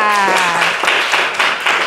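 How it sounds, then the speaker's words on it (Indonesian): A classroom of students claps for a classmate who answered a question. A voice speaks at the start, then quick, close, ragged handclaps fill the rest of the moment. "Oke, tepuk tangan untuk Arta."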